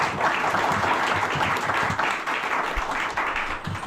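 An audience at a school reunion and teacher-honouring event in Belagavi, Karnataka, claps steadily and fairly loudly, a dense, sustained round of applause with no break.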